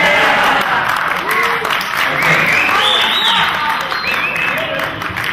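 Audience at the 2009 Latin American SEG Challenge Bowl quiz competition claps and cheers in a loud, continuous wash of applause, with excited shouts and voices rising above it.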